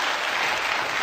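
A studio audience at a televised debate breaks into dense, steady applause, loud and close for a brief stretch with no talking over it.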